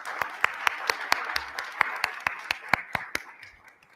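Audience at a business forum on small business applauding its partners and sponsors, with distinct sharp claps in a steady rhythm over a light wash of scattered clapping that fades out near the end.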